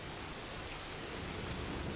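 Steady rain pours down in the video game Death Stranding 2, a dense, even hiss of falling water with no breaks, heard alone without voices.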